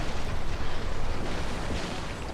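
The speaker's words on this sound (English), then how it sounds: "He fires a big chain shot," A sailing warship fires a chain-shot broadside in the video game Napoleon Total War, a heavy rolling roar of cannon blasts that stays loud and dense for over two seconds, with no talking.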